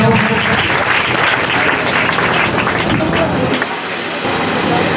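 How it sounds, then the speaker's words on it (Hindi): A school audience at a Teachers' Day celebration applauds as a class 11 student comes on stage, loud continuous clapping and crowd noise filling the space, dipping slightly near the end. "गुंजन के लिए एक बार ताली बजा दीजिए आप लोग"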